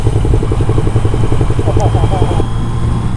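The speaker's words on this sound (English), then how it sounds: "Absolutely love the sound of this bike." A 1982 Yamaha Seca XJ650 motorcycle engine rumbles loudly nearby with a fast, throbbing beat, its revs rising briefly before settling back, with a voice faintly underneath.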